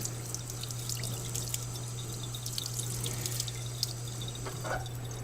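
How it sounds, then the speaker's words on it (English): An iLife A6 robot vacuum's foam filter is rinsed under running tap water, a soft continuous trickle and splash over a low steady hum, fairly quiet and without talk. "Just rinse that off too."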